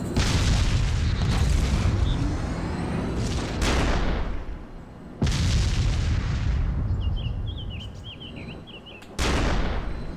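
Heavy booms and blasts as a tank is destroyed under artillery fire in a first-person shooter video game, with repeated loud detonations and rumbling, plus faint chirping in the background.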